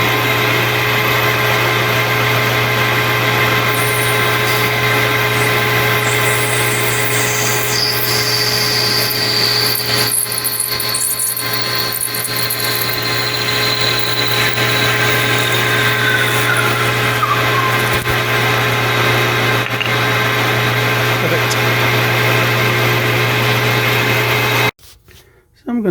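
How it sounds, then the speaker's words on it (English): Metal lathe with a parting tool set up, running loudly with a steady motor hum and a high, shifting whine as the cut proceeds, going on for about 25 seconds before abruptly stopping. "I've got the parting tool set up in the lathe."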